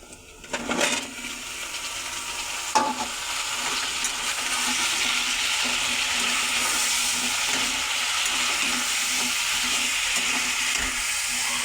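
Onions already browned and vegetable stems sizzle steadily in a hot pan, a dense continuous frying hiss with a couple of clinks early on, close and fairly loud with no talking.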